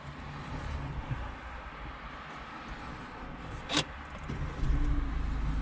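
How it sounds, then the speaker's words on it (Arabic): A Peugeot 2008 pulling away in electric drive from a parking garage: a quiet cabin hum, a single sharp click midway, then a low rumble building as the car begins to move. "هنا في باركينغ، نبداو في درايف، نحيدو فرانه مع الكتريك وننطلق على بركه الله"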